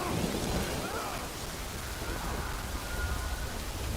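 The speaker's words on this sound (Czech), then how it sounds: "Good thing it was raining." Steady rain hisses evenly throughout, with a low rumble of thunder underneath, in the video game Death Stranding; no voices.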